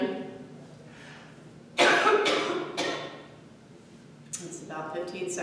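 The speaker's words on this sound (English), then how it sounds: "but I know I'm coughing" A person coughing during a Kundalini yoga class: several loud, harsh coughs around the middle of the clip, then another burst near the end, with quieter breathing and low voice between them.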